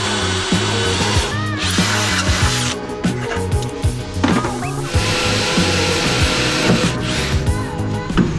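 A power drill bores holes into the chassis of a C8 Corvette being prepped as a manual drift car, running in repeated whining bursts with short pauses, loud and close.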